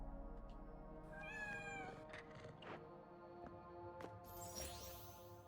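A cat meows several times in the action game Astral Blade, rising and falling calls standing out over a steady game music bed with occasional sharp effects.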